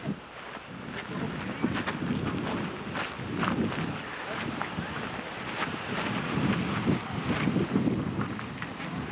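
A small, clean mountain waterfall near Colorado Springs rushes in a steady broadband roar, close and fairly loud, with wind buffeting the microphone and a faint voice in the background.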